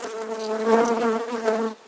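Close, steady buzzing of many honeybees around a newly installed hive, a dense droning hum that swells and dips slightly before cutting off near the end.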